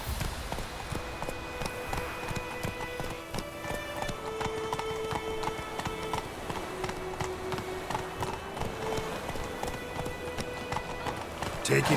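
In The Witcher 3, the horse Roach gallops with a steady, rapid clip-clop of hooves over continuous wind and ambient noise, while a voice speaks intermittently above it.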